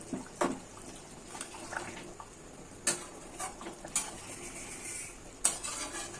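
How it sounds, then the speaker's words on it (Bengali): A spoon stirs and mashes tomatoes in a pan of egg curry with potatoes, making soft scrapes and a few sharp metallic clinks against the pan over a faint simmer. Quiet and close, with no talking. "এখন আমি টমেটোগুলোকে ঘেটে দিচ্ছি"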